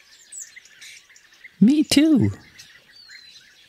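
Small birds chirp and tweet faintly and intermittently in the background throughout, while a person speaks a couple of words briefly in the foreground.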